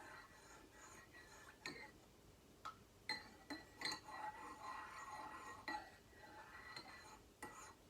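Soft clinks and scrapes of a wooden-edged teaspoon stirring tea in a cup, scattered light chimes over a quiet, hushed background.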